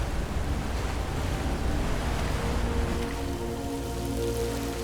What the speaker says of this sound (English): Let's check behind the waterfall.